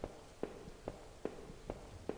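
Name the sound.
footsteps on a squeaky floor in a video game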